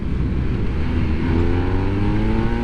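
A 2023 BMW R1250R boxer-engine motorcycle accelerating hard, a loud, close, continuous engine drone with rising harmonics and no speech over it.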